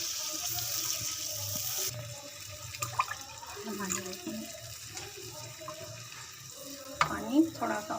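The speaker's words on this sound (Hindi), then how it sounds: "अब हम इसमें पानी शामिल करेंगे।" Water is poured from a tap or vessel into a pot of cooked masala with ghee for khandiya, a splashing, gushing flow with intermittent speech alongside.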